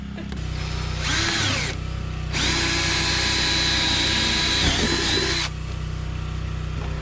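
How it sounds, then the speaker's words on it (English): A power drill whines in two bursts, a short one and then a longer steady run, drilling a wire hole while a front door is replaced, over a constant low background hum. "we still didn't drill the stupid hole for the wire."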